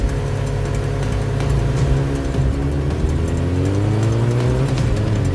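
Motorbikes race in an animated horror cartoon, with a continuous loud engine drone whose pitch climbs and shifts as the bikes accelerate, filling the scene without speech.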